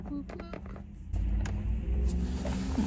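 Inside a moving car on travel day, a steady low engine and road rumble that grows fuller after a second, with a few faint clicks and a brief murmur of a voice.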